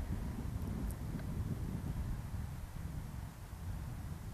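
Wind blowing outdoors at an RC plane flying field, a steady low rumble with buffeting across the microphone that never lets up.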